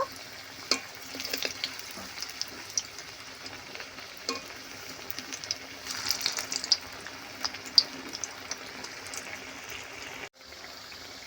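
Moringa leaf fritters fry in oil in a pan, a soft continuous sizzle broken by scattered small crackles and light stirring clinks, fairly quiet and close, with no voices.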